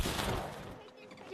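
Gunfire from a battle royale video game: a loud burst of shots at the start that fades away, with faint voices underneath.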